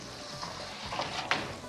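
A goose stuffed for Gerede-style dolma sizzles while cooking in a pot, giving a soft, steady frying hiss with small crackles and one brief sharper pop, fairly faint throughout.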